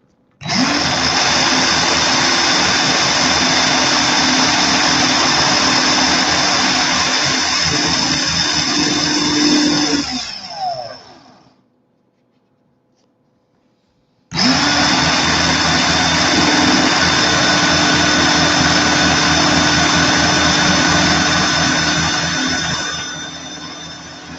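A power tool drones loudly as it sands and polishes a metal coil to a mirror finish with 7,000 grit. The steady whine runs about ten seconds, cuts out for a few seconds, then resumes and fades at the end.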